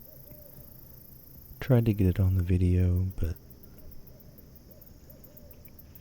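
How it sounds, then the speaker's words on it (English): An owl hoots in woodland, a short run of low calls amid soft night-insect ambience, with a person speaking briefly nearby. "There was an owl hooting at this point, some way off in the distance"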